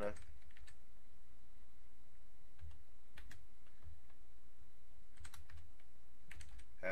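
Someone types a name on a computer keyboard during Windows 7 firewall setup, producing faint, sparse clusters of key clicks in short bursts over a quiet background.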